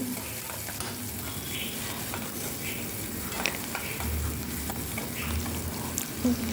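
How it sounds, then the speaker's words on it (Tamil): Onions and okra sauté in an oiled pan for a Tamil-style poriyal, giving a soft, continuous sizzle with gentle stirring scrapes. The frying sounds close by and steady, with no talking. "நல்லா அதை வதக்கிக்கோங்க நல்லா வதங்கணும்"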